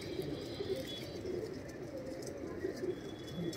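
Rajasthani lalsira pigeons, a black-tailed full-size pair, cooing softly and continuously at close range in a loft, with a low murmuring drone and no talk.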